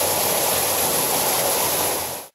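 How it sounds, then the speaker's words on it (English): Waterfall pouring steadily, a dense continuous rush of broadband water noise close by that cuts off abruptly at the end. "My friend is doing the waterfall in slow motion."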